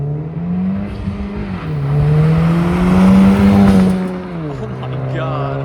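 Honda 10th-generation Civic Si with a 1.5-liter engine, catted downpipe and catback exhaust revs up loudly and holds a raspy drone that swells and eases, up close with no talk.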